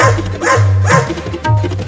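A cartoon dog barking in a kids' Holi chase scene, several loud close barks in quick rhythm over a busy music and effects bed.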